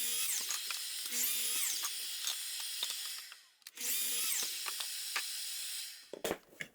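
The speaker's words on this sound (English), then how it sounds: "traced out my line so I can cut it on the chop saw" A chop saw slices through poplar 1x4 boards in two loud, sustained cuts, each whining up as the blade spins and bites, then winding down, followed by brief clatter of wood being moved.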